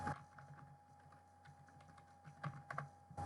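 A password is typed on a computer keyboard in a series of quick, soft keystrokes, with a few louder taps near the end over a faint steady hum.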